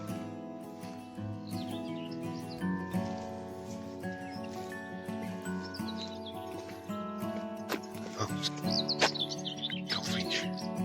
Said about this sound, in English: Got a white throat just over here.